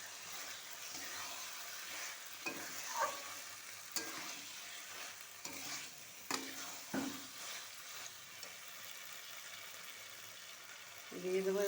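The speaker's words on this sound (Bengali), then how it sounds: "চর্বিটা দিয়ে একটু কষাতে হবে, নাহলে একটা আস্তা গন্ধ হবে।" Sautéing in fat with stirring for Bengali ghugni (spiced pea curry): steady sizzle and frying hiss in a pan, with intermittent scraping clatters of a spoon against the vessel, close up and without talk.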